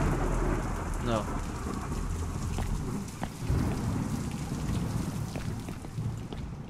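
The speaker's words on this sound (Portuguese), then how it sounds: "Tá chovendo feio aqui, hein?" Heavy rain pours steadily in a Five Nights at Freddy's-style video game, with low thunder rumbling underneath and a brief voice speaking near the start.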